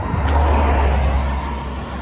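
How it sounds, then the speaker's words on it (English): Car traffic rumbling across a small road bridge over the Umpqua River on the Oregon coast, a loud low drone of passing vehicles that swells and slowly fades, with no voices. "Except for the car noise,"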